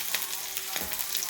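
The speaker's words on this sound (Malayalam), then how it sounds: "ശകലം എണ്ണ ഒഴിച്ചു. എണ്ണ ചൂടാവട്ടെ. ചൂടായി. നമുക്ക് വെളുത്തുള്ളി ഇട്ട് കൊടുക്കാം." Garlic sizzles in hot oil in a pan, a steady bright crackling hiss with small pops and a stirring scrape, close and continuous with no talk.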